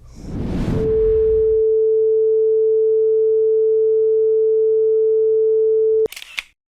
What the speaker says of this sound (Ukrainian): знайду запис ноти ля на Ютубі і почуємо, як вона звучить та виглядає на екрані осцилоскопа